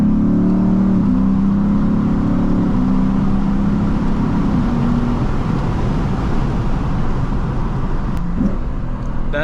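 A Lexus IS F engine revs up hard under acceleration, a loud, continuous rising roar with climbing harmonics that settles into a sustained drone, followed by a brief shift blip near the end.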